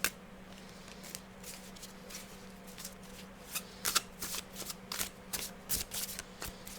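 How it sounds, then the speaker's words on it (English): A tarot card deck is shuffled hand over hand, giving soft, close papery flicks and slides in an irregular run that grows busier toward the end, with no talking. "I can riffle shuffle, but I need a desk to riffle shuffle on, so I prefer to do hand over hand."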